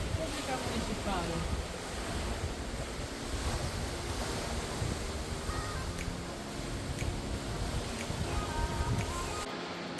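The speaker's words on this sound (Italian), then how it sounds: "solo per dirvi il vento che c'è" Wind gusts along a Spanish seafront near a palm tree, a soft, continuous roar of rushing air and buffeting mixed with the wash of surf, fairly faint and steady.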